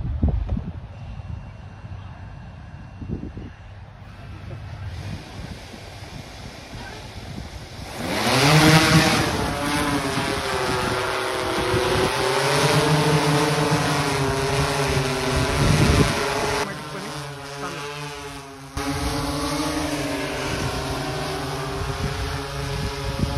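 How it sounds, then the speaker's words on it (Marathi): An agricultural spraying drone whines loudly over a farm field, its motor pitch climbing as it lifts off, then holding a steady buzzing drone with gusts of wind while spraying automatically. "हा ड्रोन कसा फवारतो हे आपण इथे बघूया"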